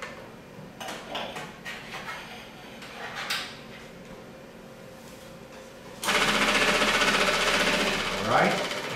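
Fuel pump of a Gen 1 Suzuki Hayabusa motorcycle, starting after a few quiet seconds of light clatter as a steady, loud mechanical buzz that runs continuously to the end.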